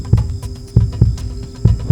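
Heartbeat sound effect in a horror audio story, describing a pulsing blood-bound book: loud, close, paired thumps in a steady slow rhythm over a faint sustained hum, with no voices.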